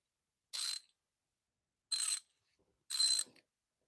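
A ratchet clicking in three short, crisp bursts separated by pauses while tightening a spark plug on a 2005 Chrysler 300 with 225k miles, heard close up against silence.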